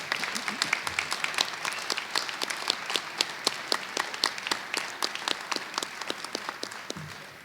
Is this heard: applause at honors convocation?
yes